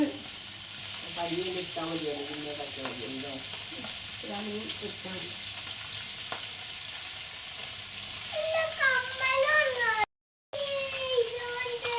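Fish fries in hot oil, a steady close crackling sizzle that runs throughout, with voices, including a child's, talking over it at times.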